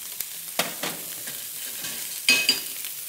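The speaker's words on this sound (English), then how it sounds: "Inside of this heavy pan, we're going to start to render some merguez sausage that we make in the restaurant, which is a lamb sausage." Lamb merguez sausage with paprika rendering in a heavy pan in a restaurant kitchen, a soft crackling sizzle broken by a few sharp stirring scrapes and utensil knocks, close, no voices.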